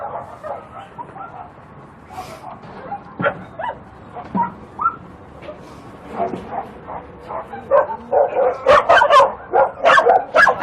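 Several caged dogs at a dog meat farm barking, yipping and whimpering close by, scattered at first and then growing into louder, denser barking toward the end.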